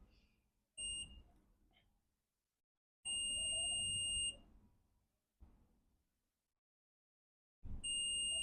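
A multimeter in continuity mode on a MacBook Pro 16-inch A2141 logic board with no power, giving three loud, steady high-pitched tones, each about a second long, separated by the quiet clicks of the probes touching the board.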